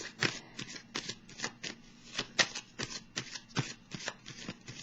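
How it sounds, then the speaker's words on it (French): Belline oracle cards are shuffled by hand up close, making quick, irregular flicking and riffling bursts with no voice. "Je vais piger une carte du Béline pour la clarifier"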